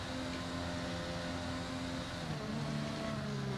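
Race car engine in a racing video game, steady and loud as it pulls away from the start line, pitch shifting as it climbs through the revs, with no talk over it.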